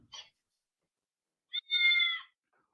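A children's animal sound toy plays a recorded cat meow: a brief chirp, a pause, then a longer, clear electronic meow. It is close but fairly quiet, with silence around it.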